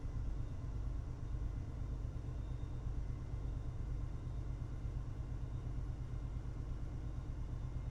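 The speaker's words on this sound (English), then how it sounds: "as you can hear the locomotive roar" Diesel locomotive in Train Sim World 5 on an MBTA commuter run gives a steady, loud low rumble with a constant engine drone throughout, no talk.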